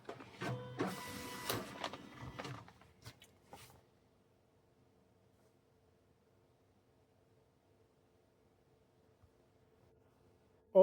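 An ADR LAB102P coffee pouch labeler runs briefly, whirring and clicking as it applies a label to the underside of a pouch, then falls to a faint hum with a sharp click at the very end.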